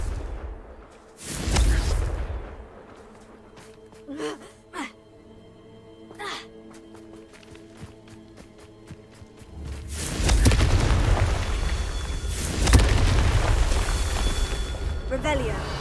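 Blasting-curse spell explosions from the Hogwarts Legacy video game: several heavy booms, a couple of short bursts, then a long rumbling blast near the end, with someone speaking between them.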